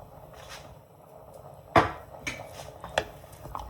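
Spoon scraping and knocking against a cooking pot of quick biryani, with tamarind and biryani essence, as it is stirred: a few dull clanks and scrapes spread over a few seconds, close by, with no talking.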